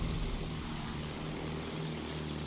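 Propeller fighter plane in Battlefield 1 drones steadily overhead, a continuous rough engine hum with a low throbbing tone, moderately loud amid battle ambience.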